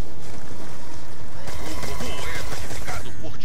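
Dense, continuous bursts of gunfire from the video game Call of Duty Black Ops 2 Zombies on the Origins map, a loud sustained rattle that intensifies midway through.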